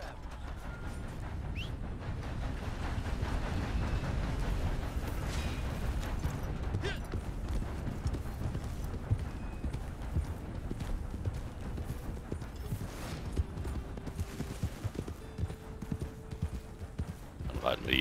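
Horse hooves clip-clop in a steady galloping rhythm while riding in Red Dead Redemption 2, continuous throughout, with people talking over the hoofbeats.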